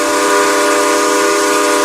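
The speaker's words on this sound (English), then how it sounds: "Beautiful whistle over here." A steam locomotive whistle, an NYC J3A Dreyfuss Hudson in a Roblox train game, sounds one loud, sustained chord-like blast with several steady harmonic tones, close and alone.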